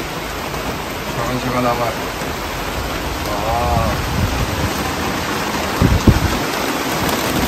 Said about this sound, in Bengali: আবার বৃষ্টি শুরু, রং জমাজম বৃষ্টি শুরু